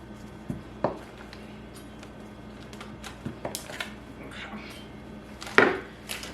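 A knife slices through a block, likely cheese, for a smoked dill pickle dip, giving a few sparse, sharp chops on a cutting board, close and isolated, with quiet pauses between cuts.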